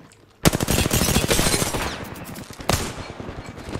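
Automatic gunfire in the Apex Legends video game erupts in loud, close rapid bursts, one long volley followed by a second shorter burst.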